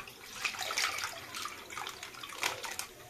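Red Cow packet milk poured from a packet into a cooking pot in a home kitchen, a soft, continuous liquid splash and gurgle with a few brighter bursts, close and fairly quiet, with no talking.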